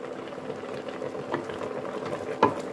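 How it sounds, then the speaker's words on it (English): Lamb simmers in water in a pot, a low bubbling boil with a soft stir and two brief clinks of a utensil against the pot, one sharper near the end, all fairly quiet. "let's just give our lamb a bit of stir"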